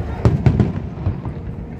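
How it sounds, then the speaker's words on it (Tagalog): Big fireworks at the boundary between the USA and Canada, with a quick run of three or four deep booming bursts followed by a softer thud and a fading rumble. "This is Canada and USA fireworks, the big fireworks here in the boundary of USA and Canada."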